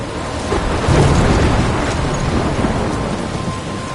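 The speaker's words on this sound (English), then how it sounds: "I'm trapped in a storm?" A thunderstorm in the video game Life is Strange: a dense, steady hiss of heavy rain with low, rolling thunder rumbling underneath. It is loud and constant, with no voices.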